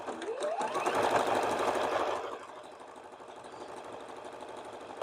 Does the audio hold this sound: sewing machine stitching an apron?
yes